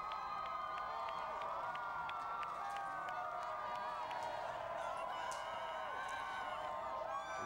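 Large election-night crowd gathering for Barack Obama, cheering and shouting in a steady, dense roar with scattered whoops, held at an even level throughout with no clear speech.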